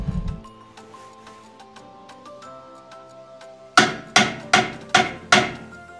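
A seized Allen key is hammered out of a corroded Mini Cooper S F56 brake caliper, five sharp metallic hammer blows in a steady rhythm after some quieter handling clinks.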